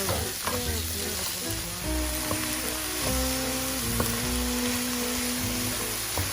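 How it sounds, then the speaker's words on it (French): Onions sizzle loudly in melted butter in a pan, a steady close crackle with occasional stirring knocks and a faint tonal hum in the background; no voices. "Le beurre commence à fondre, on verse tous nos oignons. Et on les laisse suer et revenir pendant environ 5 minutes"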